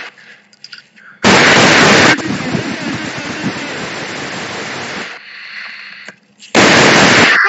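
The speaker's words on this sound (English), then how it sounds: "shots fired! 7-11, shots fired!" Gunshots in the Garry's Mod VR video game during a convenience store robbery, two very loud, clipped blasts separated by a stretch of rumbling noise, close and harsh.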